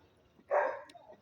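A dog gives a single short bark partway through, fairly close but modest in volume, against a quiet background.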